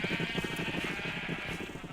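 Sheep bleating in the Minecraft mod Better Than Wolves, a close, wavering animal cry that holds for nearly two seconds with no speech over it.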